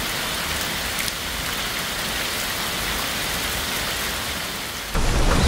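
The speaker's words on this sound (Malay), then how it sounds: "Kita tunggu masih lagi hujan." Heavy rain pours steadily and close during a cycling trip in South Korea, a dense unbroken hiss that swells louder near the end.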